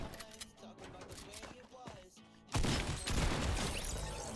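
Gunfire in the video game Fortnite on Nintendo Switch: quieter in-game sounds give way to a dense, loud stretch of rapid shots and impacts in the second half.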